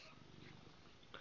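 A pet cat purring up close, a soft continuous low rumble with steady rhythmic pulses, quiet and alone for a little over a second.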